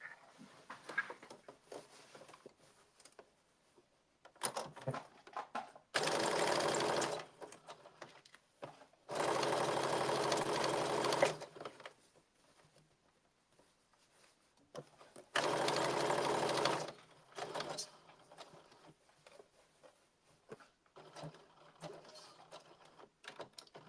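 A sewing machine stitches a blazer seam at the waist edge in three separate bursts of a few seconds each, close and steady, with soft handling clatter and fabric sounds in the pauses between them.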